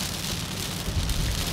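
Steady rain hisses and patters on a moving car around the Tawi area below Jebel Jabir, as a dense, even wash of noise with no voices.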